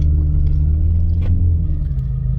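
Subaru WRX GT 2022 with a 2.4-litre turbo engine and automatic gearbox pulling away, a steady loud low engine rumble heard from inside the car with no talk.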